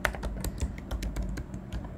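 Fingers type on a computer keyboard while someone is coding, producing a close, steady stream of irregular, crisp key clicks with no voices.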